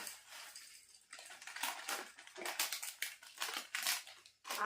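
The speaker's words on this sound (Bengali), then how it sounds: "সব চানাচুরটা কিন্তু দিয়ে দিচ্ছি" Dry chanachur snack mix poured onto puffed rice (muri), giving faint crackly, rattling pattering in several uneven bursts, with no voices.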